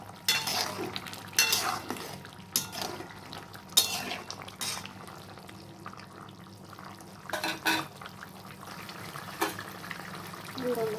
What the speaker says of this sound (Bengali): এই ছোটো মাছটা আমি টকের মধ্যে দিয়ে দিয়েছি এটা মিক্স করে দেবো